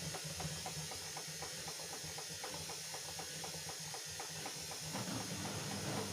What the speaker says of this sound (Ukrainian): пішов віджим